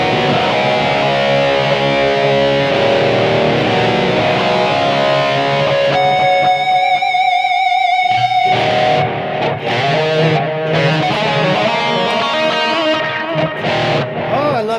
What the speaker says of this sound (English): So there's my settings for the high gain stack or the modified vintage Marshall.